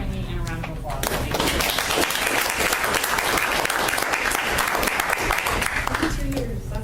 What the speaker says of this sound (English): I would ask everybody, please, to join me in a round of applause